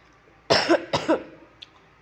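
Two sharp, close coughs in quick succession while eating sugarcane, followed by a faint short click.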